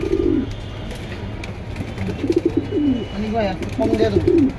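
At a busy pigeon market, several pigeons coo in repeated low bubbling phrases close by, over a steady crowd murmur and brief voices.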